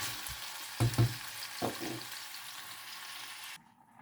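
A covered pan of pumpkin with water and milk hisses and sizzles steadily at the boil, with a few clanking knocks, then the sound cuts off abruptly.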